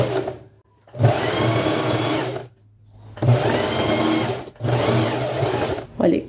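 A sewing machine stitches fabric in three fast, whirring runs separated by short pauses, close and fairly loud.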